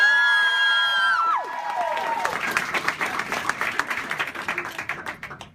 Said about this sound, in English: Big round of applause for Iggy Azalea